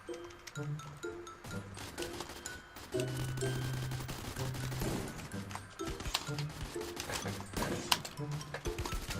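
Rapid gunfire bursts and single shots from players in the video game Free Fire, dense crackling volleys over a steady game soundscape with some sharper, louder cracks toward the end.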